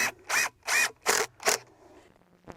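Boards of a box garden bed fastened to stakes in the ground with a power drill, five loud buzzing bursts in steady rhythm followed by a quieter pause and one short click, close by.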